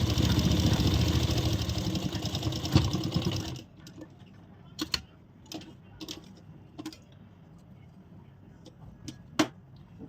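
An electric sewing machine stitches an elastic waistband, whirring loud and close for a few seconds before it stops. Scattered light clicks and taps of handling follow.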